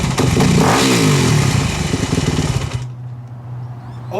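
A Yamaha dirt bike engine with a faulty carburetor revs hard and loud up close, then abruptly cuts out and drops to a low, faltering idle rumble.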